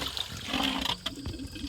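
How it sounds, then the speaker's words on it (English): Water drains and trickles out of an inground pool's chlorinator during winterizing, a soft, close gurgling dribble with small splashes and irregular drips throughout. "So I just drain the water out."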